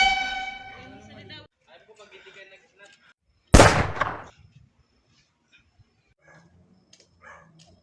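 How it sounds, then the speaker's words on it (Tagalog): A single sharp gunshot cracks out loudly between stretches of talking, with a short decaying tail. "Putok ng baril yun ah"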